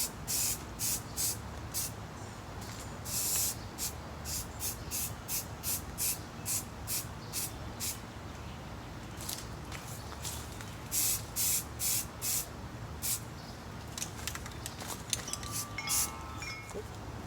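A rattle can of spray paint hisses onto a rifle in a long run of short, evenly spaced bursts, some grouped in quick clusters, near and fairly quiet, with no voices.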